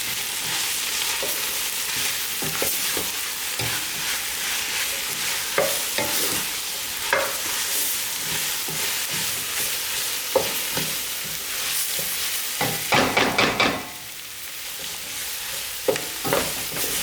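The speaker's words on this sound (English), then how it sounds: "Stir that in as well." Leek being stirred into a vegetable mixture in a hot pan for a summer squash biryani, with steady sizzling and frying broken by repeated scraping stirs and a brief burst of clattering near the end.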